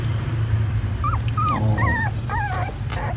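A dog whimpers in several short, high, wavering whines over a steady low background hum.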